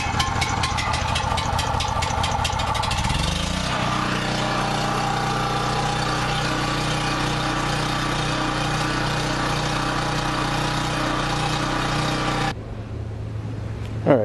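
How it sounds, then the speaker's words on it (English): A Powermate 3250 watt portable generator engine catches after a couple of pulls and runs steadily, a loud continuous mid-pitched drone that settles to an even idle and holds without voices. "Well, it almost started. There we go, 2 pulls."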